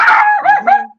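A dog gives a short run of three whining, yelping barks, close by and fairly loud, with no other sound around it.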